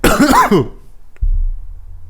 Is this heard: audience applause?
no